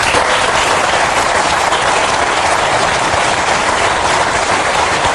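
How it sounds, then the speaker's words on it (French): A studio audience at a French television forum applauds with dense, steady clapping that stays loud and unbroken throughout, with no voices. "On ne sait pas si les applaudissements saluent l'émission ou s'ils saluent votre propos."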